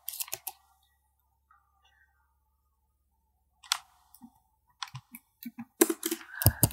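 Several short bursts of clicks and taps on a computer keyboard, sparse at first with a long quiet gap, then a quicker flurry of keystrokes near the end, close and fairly clear with no talking.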